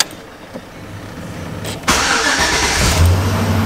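A Chevrolet Silverado pickup's engine cranks briefly, then catches and settles into a steady, loud idle close by, with no talking.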